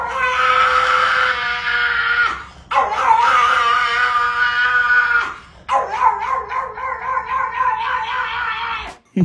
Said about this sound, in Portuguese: a dona gravou como seu latido é um tanto quanto peculiar, pra não dizer assustador